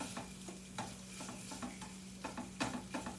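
Onions sautéing in a pan beside cooked turkey burgers give a soft, steady sizzle, broken by repeated scraping strokes as they are stirred, fairly quiet and close.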